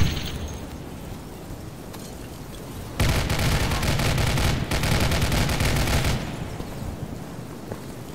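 Gunfire in the video game Insurgency comes as a dense, loud burst of automatic shots lasting about three seconds, with rapid overlapping cracks, after a quieter stretch of background noise, then trailing off into rumble.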